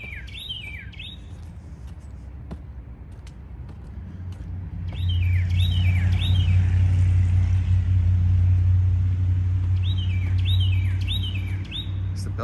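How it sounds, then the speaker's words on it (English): Near a college bell tower in small-town Kentucky, a loud bird repeats bursts of sweeping chirped calls, pausing midway while a low vehicle rumble swells underneath and then fades. "There's a loud bird up here somewhere."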